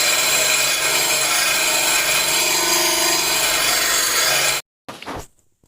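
Metal being filed or ground off one side of a Honda lawnmower blade clamped in a vise, a steady loud rasping scrape for over four seconds, then a sudden stop and a brief clatter.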